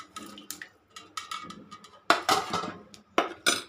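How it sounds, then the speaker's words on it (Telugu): Boiled eggs tipped into a pot of drumstick curry with raw mango and potato: a string of close, sharp clinks and wet knocks against the pot, with brief splashy bursts between quieter gaps. "ఉడకబెట్టుకున్న ఈ కోడిగుడ్లను వేసేసుకుందాం దీంట్లో."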